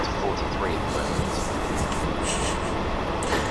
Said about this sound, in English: It takes forever to accelerate, we're only up to 43 at the moment.